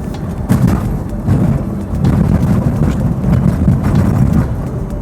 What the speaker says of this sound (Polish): dźwiękowo no jednak było słychać to, że uderzamy o te wybrzuszenia